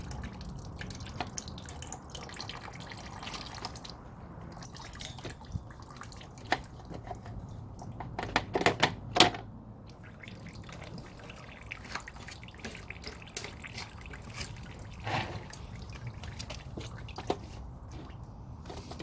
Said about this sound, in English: I'll leave that just to drip for a little length of time.